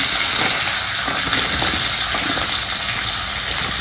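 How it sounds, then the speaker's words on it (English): Small sambar onions hit hot oil in a pan with a steady, close, loud sizzle and crackle that holds evenly throughout, with no talking. "next we will add these small or sambar onions."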